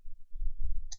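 Two quick computer mouse clicks near the end, sharp and close, following a stretch of low background rumble.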